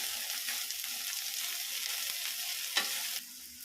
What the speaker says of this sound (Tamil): உப்பு போட்டுட்டு அதை வந்து கொஞ்சம் கிளறி விட்டுருங்க.